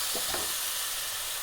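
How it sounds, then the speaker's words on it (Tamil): Tomatoes sautéing in a pan for a Sri Lankan tin fish relish, giving a brief, dense, even sizzle close by with no voices. "இப்போ நாங்கள் இந்த தக்காளியை போடுவோம். தக்காளியும் நல்லா வதங்கணும்."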